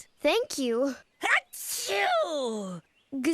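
A cartoon little bear lets out a string of loud, voiced, exaggerated sneezes after too much pepper, three or four separate bursts with short pauses between them, performed by a voice actor.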